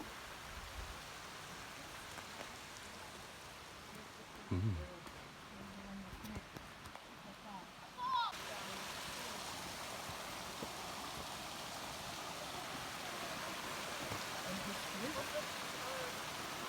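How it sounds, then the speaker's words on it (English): Steady rushing water of a creek flows continuously along a hiking trail, a broad even wash of sound, with a few brief knocks and shuffles partway through. "Oh, there's a creek there."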